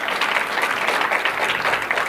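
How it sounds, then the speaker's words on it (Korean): Loud, dense audience applause at a hip-hop, dance and vocal showcase concert, a continuous roar of many clapping hands filling the whole stretch without a break. "박수 크게 주시고요"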